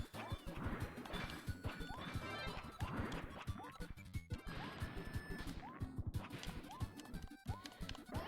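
Repeated smashing and thwacking crashes from breaking a wall in Kirby's Dream Buffet, a busy rhythmic clatter of game impacts and effects running throughout, fairly dense and continuous.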